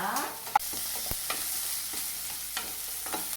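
Vegetables for spiced millet puttu sauté in a pan with a continuous close sizzle, punctuated by a few sharp knocks and scrapes of a spoon stirring.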